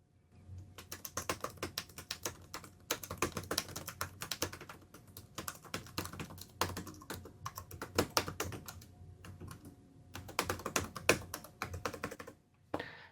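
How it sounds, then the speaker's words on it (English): Typing on an MP Tetra low-profile keyboard, an external keyboard: quiet, rapid clicking keystrokes in continuous bursts with brief pauses between words, close and alone without talk. "Let me type something here so you can hear how it sounds."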